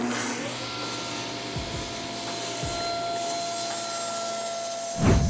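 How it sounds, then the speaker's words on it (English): A table saw with a combination blade runs steadily while cutting a picture frame on a miter spline jig, a constant motor whine with a couple of soft knocks and a louder thump near the end. "We turn on the table saw."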